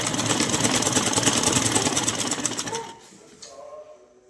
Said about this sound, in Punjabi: ਲੋ ਜੀ ਇਹ ਆਪਾਂ ਲਗਾਉਣ ਲੱਗੇ ਸਲਾਈ ਤੇ ਹੁਣ ਸਿੱਧੀ ਸਿੱਧੀ ਸਲਾਈ ਲਗਾਵਾਂਗੇ